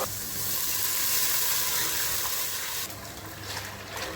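Loud, steady sizzling of hot tempering as buttermilk is poured in for kadhi, the hiss dropping and softening partway through.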